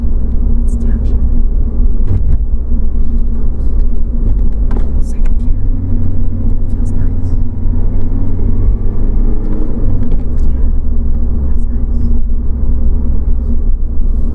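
A 2012 VW Golf TDI diesel hatchback driving on the road, heard from inside the cabin as it downshifts; steady low engine and road rumble throughout, with people talking over it.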